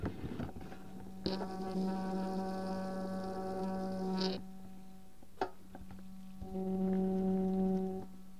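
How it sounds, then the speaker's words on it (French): A small electric water pump runs with a steady tonal hum in two stretches, switching off between them, with a soft click in the quiet gap. "petite pompe à eau électrique, elle est en route"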